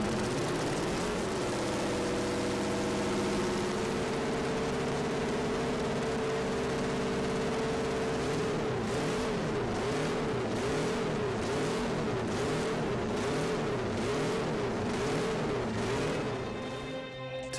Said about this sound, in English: The sound of 4 small cylinders firing at incredibly high speeds.